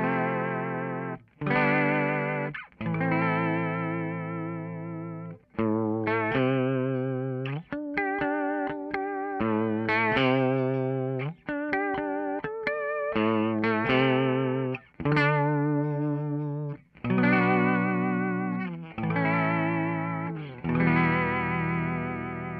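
A TC Electronic Shaker vibrato pedal wobbles the pitch of a Telecaster played through a Two-Rock Classic Reverb amp, heard as a steady run of chords and picked notes with a pronounced shaky warble, loud and close with no talking.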